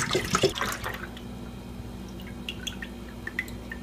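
Milk is poured into a pot, a brief splashing gush at the start tapering into scattered small drips and trickles, close and fairly quiet with no talk.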